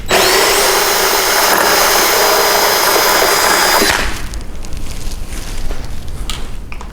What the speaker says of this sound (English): it's going to make drilling into this steel so much easier